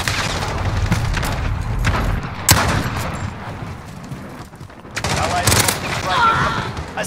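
Dense gunfire from the Call of Duty Modern Warfare video game, with rapid bursts and sharp shots layered over a busy battle ambience, loud and continuous with a brief lull in the middle.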